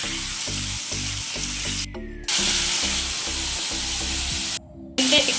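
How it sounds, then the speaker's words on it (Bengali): Loud, steady sizzling of chicken frying in a hot pan, with a low rhythmic mechanical hum pulsing underneath and a couple of brief drops. "এবার চিকেনটা একটু ভাজা হবে"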